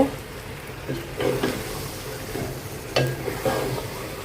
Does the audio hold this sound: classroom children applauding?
no